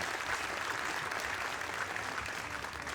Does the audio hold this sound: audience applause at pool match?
yes